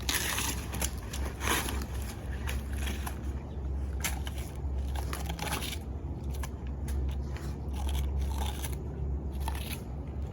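Banana plant pups are cut down close with a blade in a steady string of soft crunching, snipping strokes, close by over a low rumbling outdoor background, with no talking.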